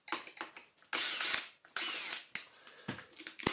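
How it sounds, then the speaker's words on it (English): A ratchet screwdriver clicks in short bursts while screws holding the suction duct are taken out of a Dyson DC50 vacuum chassis, with several quiet pauses between close, crisp clicking runs. "Take out all of the screws that hold the suction duct onto the side of the chassis."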